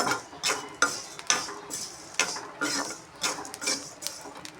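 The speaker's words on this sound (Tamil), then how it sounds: "இது இரும்பு வானலில் தான் வறுக்கணும்." Rice being roasted and stirred in an iron pan: a spoon scrapes and clinks against the metal in uneven strokes, with the grains rustling in between. Close and fairly quiet, with no talking.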